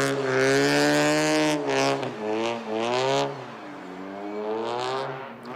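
A drift car accelerates hard at a winter drift competition in Kazakhstan, its loud engine note rising and falling through several strong revving sweeps as it pulls through the gears.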